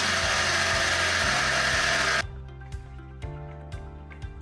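A power drill bores through the metal wall of a homebrew system vessel to fit a ball valve. It runs loud and continuous at first, then cuts off abruptly partway through, leaving only faint scattered clicks and knocks.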